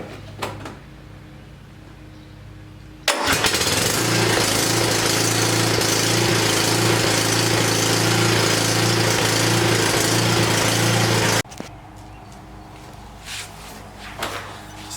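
A Cub Cadet XT1 Enduro Series lawn tractor engine is started and left running to warm up before an oil change, holding a steady loud drone for about eight seconds before cutting off, with quieter clunks before and after.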